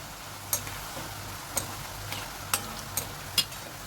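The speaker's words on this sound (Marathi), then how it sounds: "आणि ते मी फास्ट गॅसवर तळते" Radish shankarpali deep-frying in hot oil over a high flame, a quiet steady bubbling sizzle broken by about five sharp clicks or taps from a utensil, with no talking.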